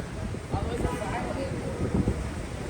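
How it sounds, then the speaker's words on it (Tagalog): Steady wind buffeting a microphone outdoors in freezing Manhattan, New York City, a low rumbling roar with gusty swells throughout, close and fairly loud. "And it's windy."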